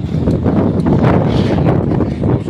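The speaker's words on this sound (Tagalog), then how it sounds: "So medyo malakas yung hangin dito guys" Strong wind buffets the microphone at a railway construction site in Santa Rosa, Laguna, a loud, steady rumbling roar with gusty swells that runs through the whole stretch.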